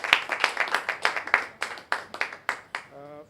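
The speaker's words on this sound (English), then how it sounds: "Round of applause." A small audience at a Rotary club presidential installation claps in a quick, uneven rhythm of distinct, fairly close hand claps, which fade out at the end beneath a brief tonal sound.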